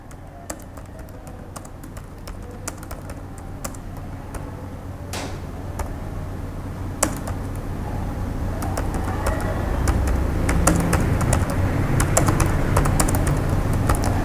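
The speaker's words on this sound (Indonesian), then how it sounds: "Oke, untuk alamatnya sudah saya ketikkan." Someone types an address into a letterhead document on a computer keyboard. Rapid, irregular key clicks close by grow busier over a low room hum.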